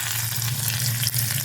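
Chopped shallots sizzling and crackling steadily in hot oil for peanut chutney tempering, a bright continuous frying hiss.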